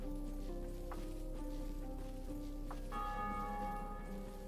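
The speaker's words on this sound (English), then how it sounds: "There's another bell down here. That's how you can hear it." Bell tower ringing in the Dark Souls video game, with a few faint, evenly spaced bell strikes over a steady background hum and no talk.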